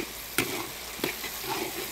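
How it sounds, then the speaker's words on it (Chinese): Scallions, ginger, garlic, dried Sichuan peppercorns, chilies and doubanjiang bean paste stir-frying in a wok, steady sizzling with two sharp scraping strokes of the spatula, close and without voices. "加葱姜蒜，乱七八糟的香料，干花椒、海椒，再来两勺豆瓣酱， 给他们炒化炒香"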